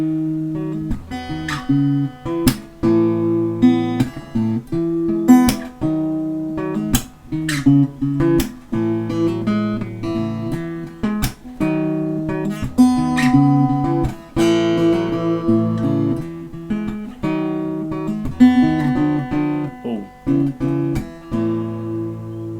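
Acoustic guitar in an open tuning plays the verse chord progression of a song, steady strummed and picked chords with ringing strings, close and clear, with no talking.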